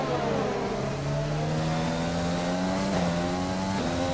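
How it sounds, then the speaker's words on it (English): A Formula 1 race car in the F1 2020 video game drones loudly, its engine pitch climbing steadily through the revs, then dipping with quick short-shifted gear changes. "You can see short shifting so I don't run the revs too high."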